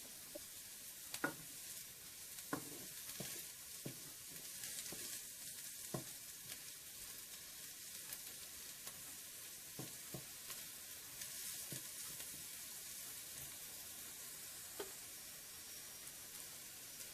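Onions fry gently in a pan for a butternut squash and pea coconut curry, a quiet, continuous sizzle broken by scattered soft clicks and taps of stirring.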